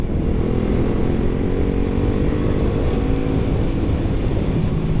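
Suzuki GSX-S150 motorcycle engine droning steadily while riding, loud and close with constant wind rush and no talk.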